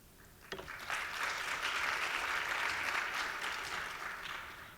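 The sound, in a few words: audience applause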